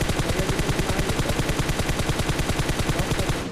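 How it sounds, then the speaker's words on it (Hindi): Rapid automatic gunfire from the video game PUBG rattles on continuously in loud, evenly spaced bursts of shots, close and alone with no voices. "तो भाई वहाँ से पहले से ही फायरिंग चल रही थी।"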